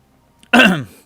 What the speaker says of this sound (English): That cough is fine.